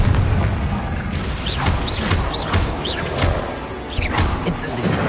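In the video game Hogwarts Legacy, the Confringo explosion spell goes off amid loud, continuous battle noise: booming crashes, whooshes and thuds layered over a dense soundtrack.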